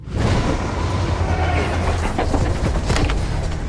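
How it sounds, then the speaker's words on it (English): A runaway freight train roars loudly and steadily at close range, with dense rumbling and clattering from start to finish and no voices. "The train is out of control, and they can't tell anyone about it."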